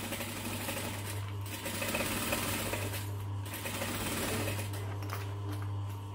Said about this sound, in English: so let's sew the other side